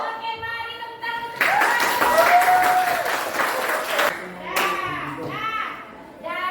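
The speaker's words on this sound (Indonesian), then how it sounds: "Oke, mari tepuk tangan." A classroom of students bursts into loud, sustained applause lasting several seconds, with children's voices and chatter mixed in before the clapping fades out.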